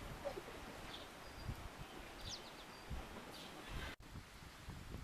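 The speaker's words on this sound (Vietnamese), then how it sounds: "Here is high ground, so it's windy." Wind blows across a high floor of a house, a faint, steady breathy rush with gusts brushing the microphone and a few soft bird calls in the background.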